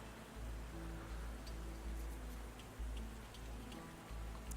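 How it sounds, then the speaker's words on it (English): Rain falls steadily in the video game Ys X: Nordics as a soft, even hiss with faint scattered ticks of drops, quiet and distant over a low rumble and with no voices. "The rain is coming down even harder."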